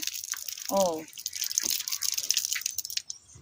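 Water drips steadily from a tap, with a short voice sound early on and a faint hiss in the background.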